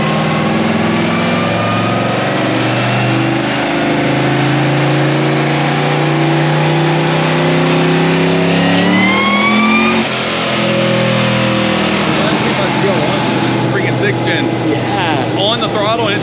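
A supercharged LSA V8 drift car running on E85 revs hard and close, its pitch sweeping up and down through rising pulls before a sudden cutoff and a rougher, fluttering idle, with a voice talking over parts of it.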